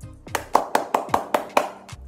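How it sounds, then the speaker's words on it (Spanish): Hands clapping in a slow, even series of about seven sharp claps, close and distinct, with short gaps between them and nothing else around. "que voy a hacer es aplaudir"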